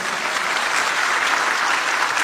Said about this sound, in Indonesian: Itu tepuk tangan dia hadir.